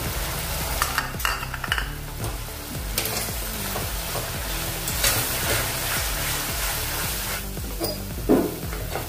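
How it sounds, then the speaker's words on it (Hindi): Whole spice masala goes into a sizzling vegetable biryani mixture and gets stirred, with a continuous close frying hiss and repeated scraping stir strokes and utensil clatter in a steady rhythm, no talking. "अभी इसमें हमने जो मसाला बनाया है, खड़ा मसाला बोलते हैं, वो इसमें डाल देंगे पूरा का पूरा"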